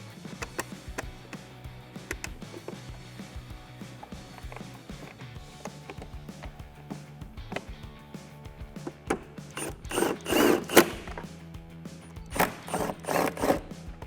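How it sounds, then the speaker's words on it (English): Ratchet clicks from a 10mm socket and extension tightening heat shield bolts during a Roush performance kit install on a 2015-2017 Ford F150 3.5L EcoBoost, close up: quick ratcheting runs with louder clattering bursts near the end. "I'm going to thread that through by hand and then use our 10mm socket and extension to tighten them down."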